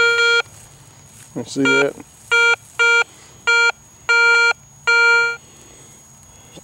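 A metal detector sweeps over buried metal in the ground, sounding a series of loud, sharp electronic beeps in short bursts, close up, with someone speaking briefly between them.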